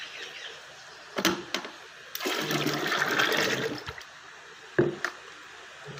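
Distemper paint mix is churned by hand in a container of water, giving a sustained wet sloshing and swirling burst with a few sharp splashy knocks before and after.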